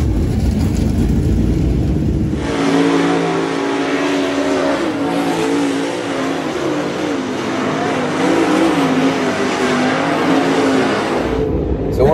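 Race cars run hot laps on a dirt track at Charlotte, engines roaring loudly close by in a continuous, revving blare that swells and fades as the cars sweep past, with a quieter rumble before and after.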